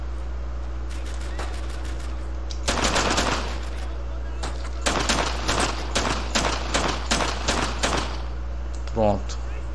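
Rapid bursts of automatic gunfire, with a few single shots, from the World War II shooter Brothers in Arms: Earned in Blood on the original Xbox, loud and close in several spaced volleys over a steady low game hum.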